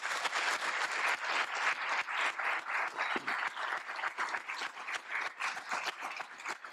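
A state poetry recitation final audience claps in rhythmic bursts, crisp rapid hand claps pulsing steadily for several seconds, fairly close and full, with no voices on top.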